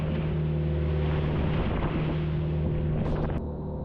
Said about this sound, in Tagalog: Maalon at mahangin pa rin sa laot sa pangalawang araw ng aming paglalakbay.